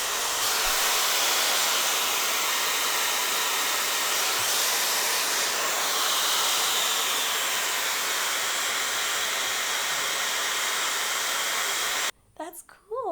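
Steady, loud rush of airflow from a Dyson Supersonic hair dryer on the cool setting, drying curly hair, running continuously alone until it cuts off near the end, leaving brief quiet handling sounds.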